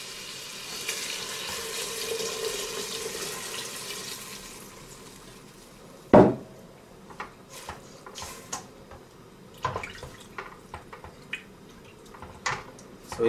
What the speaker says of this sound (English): Now we're going to add 4 cups of water.